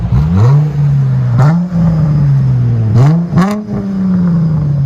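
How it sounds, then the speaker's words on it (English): A 2016 Dodge Challenger 3.6L V6 with a Flowmaster FlowFX rear exhaust revving up close, loud idle rising in several sharp throttle blips that climb and fall back, about four revs in five seconds. "Dodge Challenger V6. Flow effects is in the rear."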